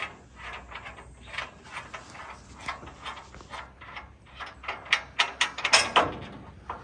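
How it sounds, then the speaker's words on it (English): Someone removes a nut and bolt from the R1 brace on a bridge top-rail truss, making a run of close metallic clicks and ratcheting taps that grow louder and denser toward the end. "I'm gonna go ahead and take off this nut and this bolt on the R1s."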